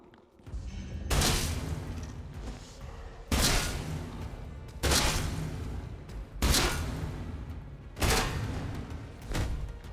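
Shotgun blasts fired at an enemy in the video game Atomfall, five loud booming shots spaced a second or two apart, each with a sharp attack and a long decaying tail, with no talking.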